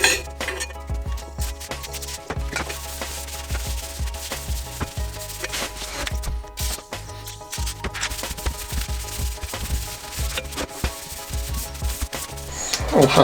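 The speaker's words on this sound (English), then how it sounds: "a good wipe over with my latest go-to cleaning material, WD-40" Rag rubbing and wiping Honda CB750 motorcycle parts with WD-40, a close, continuous scrubbing friction with light metallic clinks mixed in, no voices.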